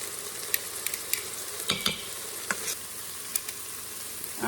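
Turmeric and garlic sizzle steadily in a pan while a utensil stirs, with faint crackles and a few sharp scraping clicks punctuating the frying hiss, close and moderately quiet.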